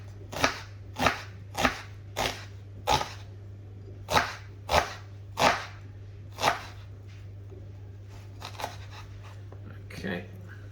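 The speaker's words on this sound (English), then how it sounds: "And then we're going to make slices, starting that end, going back to here" A knife slices through raw potatoes on a cutting board while preparing a Spanish tortilla de patatas: about ten sharp, evenly paced chops close up, tapering to lighter cuts near the end over a steady low hum.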